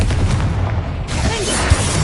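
A booming explosion from the Confringo spell in the Hogwarts Legacy video game, a dull low thump with rumbling tail amid other game effects, moderately loud and without talk.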